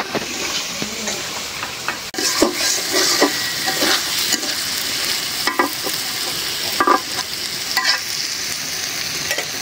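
Egg bhuna sizzling in a pan after a splash of water goes in, with a loud continuous fry hiss and repeated scraping strokes of a spoon stirring, close up and without speech.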